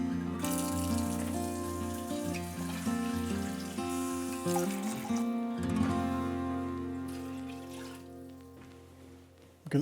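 Four cups of water pour steadily into a pot of browned pork and chicken stock, a continuous splashing trickle running under tonal background music for about ten seconds.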